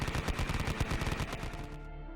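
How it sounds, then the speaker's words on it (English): A medium machine gun rattles in a fast, steady burst of evenly spaced shots, loud and close, then cuts off with a ringing tail, played as an effect over a tabletop wargame battle. "It's going to be firing its MMGs at her."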